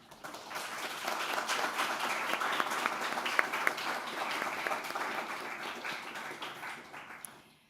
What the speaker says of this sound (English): maybe we can give the writers who are out here tonight a first round of applause